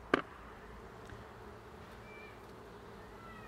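Faint, steady honeybee buzzing around an open hive fills the background after a brief sharp knock at the start, as a queen excluder is fitted.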